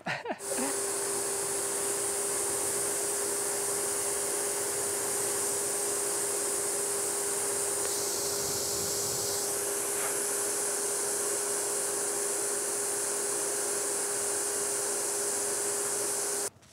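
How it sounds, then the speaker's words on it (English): A vacuum runs continuously while sucking string through buried conduit for a shed being converted to a tiny house, a steady whining drone with a sustained tone and a brief change in pitch midway. "Sucked it into the vacuum."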